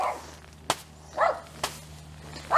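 Dogs belonging to the neighbors bark a few times, with separate short bursts spaced out across a couple of seconds. The barks sound moderately distant and stand over a low, steady background hum.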